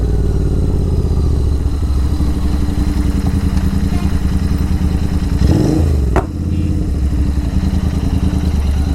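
A modified Royal Enfield GT 650 on off-road tyres rumbles loud and steady while riding, its engine drone constant throughout with a brief rising rev swell near the end.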